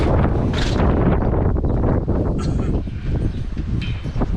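Strong wind buffets a microphone outdoors beside a barbecue, a loud continuous low rumbling roar that gusts and eases slightly.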